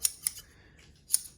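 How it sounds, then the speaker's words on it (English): Professional scissors are handled and snipped open and shut, giving sharp metallic clicks in pairs near the start and end with a quiet gap between, close and clear. "they're professional scissors. I oiled them up."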